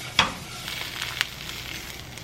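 Tofu pieces frying in a pan until brown and crispy give a soft, steady sizzle, with a couple of sharper crackles and spatters near the start, close by and moderately quiet.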